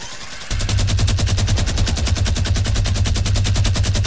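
Sustained automatic gunfire in the Fortnite battle royale game, loud and close, with a rapid, steady rhythm of shots that starts abruptly and keeps going.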